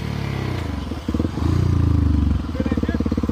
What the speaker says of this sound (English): And we got backfiring now.